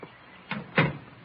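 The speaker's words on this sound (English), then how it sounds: "Come in and close the door." A door closes in a dark room with two soft, muffled thumps in quick succession, quiet and somewhat distant, with no voices.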